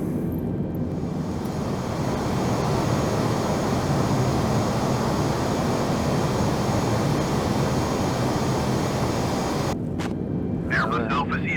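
An Airbus A320 taxis in Microsoft Flight Simulator during a zero-visibility blizzard, a steady broad engine roar holding evenly throughout, with a brief burst of voice near the end.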